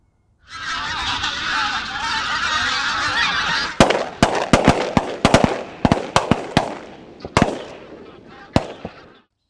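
A flock of geese honks in a dense, continuous clamor over decoys in fog, then a rapid volley of sharp, loud shotgun blasts cracks out over fading calls.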